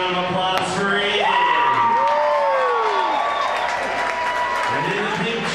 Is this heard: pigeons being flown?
no